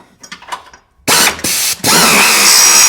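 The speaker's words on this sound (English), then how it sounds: "you got to slide that wrench underneath there" A wrench ratchets a bolt under the deck of a John Deere EZtrak Z225 zero-turn mower, with a few faint clicks and then loud, close, grinding mechanical bursts that run on to the end.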